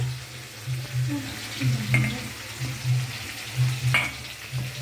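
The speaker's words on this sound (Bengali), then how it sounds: "আর চিংড়ি মাছটা ভেজে নিচ্ছে, লাউ দিয়ে করবে" Prawns fry in a pan for a bottle gourd dish, giving a steady close sizzle with a low underlying hum and occasional light clinks of utensils.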